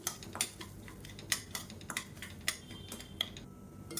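Dry semolina (rava) roasting over low heat in a pan, heard as faint repeated clinks and scrapes of a spoon stirring against the metal at an irregular pace.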